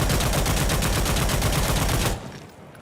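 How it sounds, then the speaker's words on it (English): G3A3 battle rifle in the shooter game Insurgency Sandstorm firing full-auto, a loud rapid string of evenly spaced shots for about two seconds, then stopping with a short fading tail. "now we will test the recoil of the weapon without any attachments, first while standing and then while crouching"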